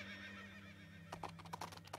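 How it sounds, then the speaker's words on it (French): A horse in the Princess Peach Showtime video game gives a wavering whinny, followed by a quick run of hollow clip-clop hoofbeats, all quite faint and without speech. "Je vais monter à cheval, moi aussi."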